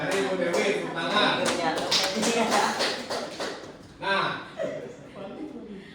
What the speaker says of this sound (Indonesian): itu dari Ibu Dewi tepuk tangan.